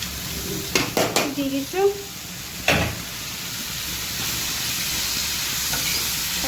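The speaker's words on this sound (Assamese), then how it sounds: "তিতাকেৰেলা ভাজিটো এইফালে বহাই দিছোঁ" Bitter gourd slices seasoned with turmeric and salt fry in a pan with a steady soft sizzle that swells after someone speaks briefly and a utensil knocks against the pan.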